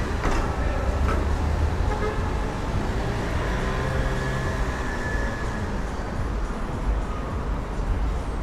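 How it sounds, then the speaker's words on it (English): Car horns honking on a busy Miami street on a Saturday night: repeated short toots and longer blasts ring out over a constant roar of traffic and street noise, fairly close and loud. "That's why everyone's honking"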